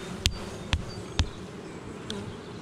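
Honeybees buzz at an open hive during a spring colony inspection, a steady low hum with a few sharp bumps and knocks standing out near the start.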